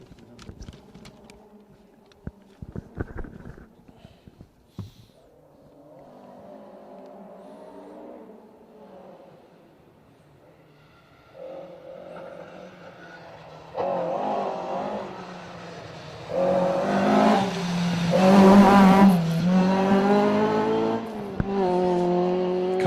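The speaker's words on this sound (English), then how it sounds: "That's a historic car as well." A historic 1600 rally car approaches and passes on a rally stage, its engine rising from faint distant buzzing to a loud revving whine with gear changes, after some scattered knocks and handling noises near the start.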